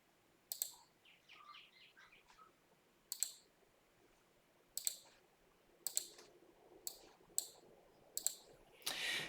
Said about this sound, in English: So click the change source,